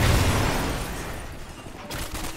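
Gunfire from a low-recoil gun in Call of Duty: Ghosts during a Domination match on the Sovereign map, a dense burst of shots up close that tapers off, followed by a few fainter shots.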